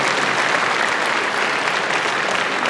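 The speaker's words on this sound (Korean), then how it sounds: "네, 여러분 박수 한번 부탁드리겠습니다." Steady applause from an audience at a city mayor's public town-hall Q&A, dense and continuous throughout with no pauses, crowd clapping filling the space evenly.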